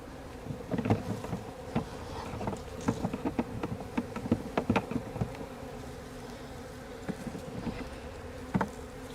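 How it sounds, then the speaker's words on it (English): A steady swarm of honeybees buzzing up close in a bush, with individual bees zipping past loudly now and then over the continuous drone. "This is a pretty nice clump of bees now that I'm in the bush with them."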